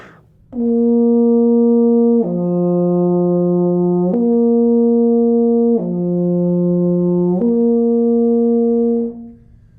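A mellow euphonium plays lip slurs, moving smoothly between two sustained notes, down and back up twice in a continuous legato phrase.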